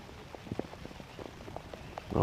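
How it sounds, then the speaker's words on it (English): Rain falling during a T10 cricket match at ECS France, scattered drops pattering on a surface at a quiet level, ending in a louder burst. "There have been some serious rain right now."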